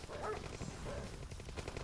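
Attack dogs in the C&C Mental Omega strategy game give a few quick, sharp barks and yips over busy battle noise, fairly faint.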